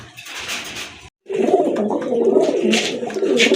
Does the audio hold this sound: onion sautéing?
no